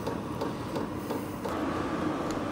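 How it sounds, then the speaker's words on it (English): Diesel heater starting up with its fans spinning up: a steady, broad mechanical whir and hum that holds without a break, fairly faint and heard alone. "You can really hear the fans kicking in."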